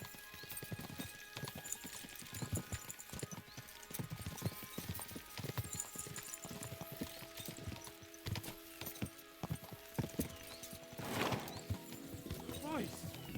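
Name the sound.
horses' hooves clip-clopping in video game Kingdom Come Deliverance 2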